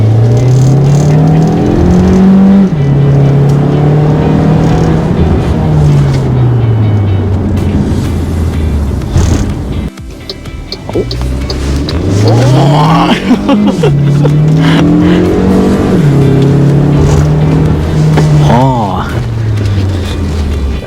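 An MG HS with an upgraded turbo pipe pulls away with a loud, rising engine drone heard from inside the cabin, falling and climbing again through gear changes, while people talk over it.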